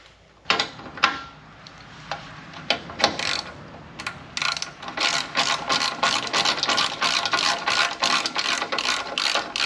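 Ratchet wrench tightening a nut with a lock washer onto a bump stop bolt during suspension work, a few separate clicks at first, then a fast, steady run of loud, close ratcheting clicks.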